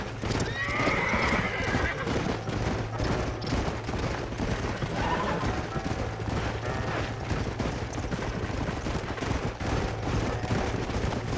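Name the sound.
horses galloping and neighing, from video game Red Dead Redemption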